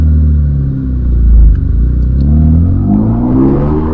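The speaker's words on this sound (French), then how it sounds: "On va faire un gros freinage, j'ai envie de voir." A Renault Mégane RS Cup accelerating hard, its engine roaring loud and close with a deep rumble that surges and changes pitch through shifts, continuous throughout without voices.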